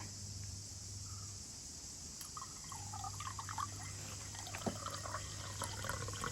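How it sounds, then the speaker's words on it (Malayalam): Soda pours and fizzes faintly into mango-leaf juice, with soft bubbling and splashing against a quiet background of insect chirping. "soda full ഒഴിക്കണോ"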